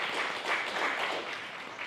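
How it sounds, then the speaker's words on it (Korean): A church congregation at a Korean Sunday worship service claps in welcome, a dense, even patter of many hands that carries on steadily for the whole span at a moderate level. "우리가 함께 격려의 박수, 환영의 박수 하도록 하겠습니다"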